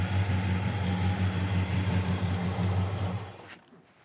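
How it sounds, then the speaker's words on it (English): A 1966 Chevelle with headers idles, a steady low rumble heard close from the engine bay for a few seconds before cutting off abruptly near the end. "listen to the engine bay, sounds great"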